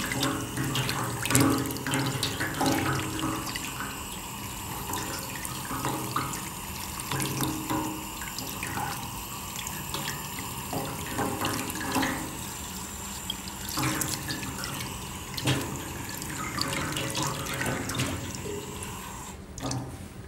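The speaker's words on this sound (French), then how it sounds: "faire couler un filet d'eau froide un petit peu ici à l'intérieur pour venir décoller en poussant comme ceci les impuretés" A thin stream of cold tap water runs steadily while a sole fish is rinsed inside, a continuous close splashing with occasional drips and handling noises, without talk.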